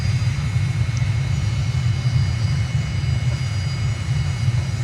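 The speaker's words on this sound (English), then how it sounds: "Should get a pretty gentle touchdown." Steady, continuous engine drone of an airliner landing in Microsoft Flight Simulator near Nur-Sultan, Kazakhstan, a low rumbling hum with a faint high whine, unbroken and even throughout.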